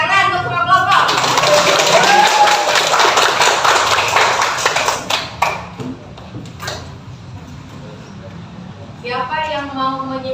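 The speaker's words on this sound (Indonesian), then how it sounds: "tepuk tangan untuk semua kelompok" A classroom of students applauding all the groups after their presentations, a dense burst of clapping lasting several seconds before fading into quieter room noise and voices.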